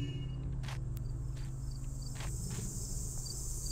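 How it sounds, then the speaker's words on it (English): Crickets chirr steadily in the ambient background of a Thief fan mission, a continuous insect drone broken by soft periodic pulses, with no speech over it. "Yeah, it's kind of insecty buzz sound there,"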